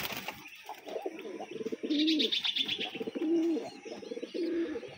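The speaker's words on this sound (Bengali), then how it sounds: "এই যে এখানে তিনটা কবুতর বসে দিছে" Several pigeons coo in a rhythmic, throaty rolling pattern, three clear coo phrases repeating close by, with a few chirps and soft background bird noise around them.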